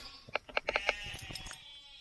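Sheep on a smallholding give a quick run of short, sharp bleats, fairly close and clear, with the last few calls trailing off.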